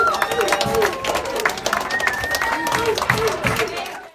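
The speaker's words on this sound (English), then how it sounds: "The school held a clap out for the students and teachers to give them a special send-off." Students and teachers clap and cheer at a school clap-out send-off for a group heading to Puerto Rico for hurricane recovery service, steady crowd applause with voices and shouts mixed in throughout.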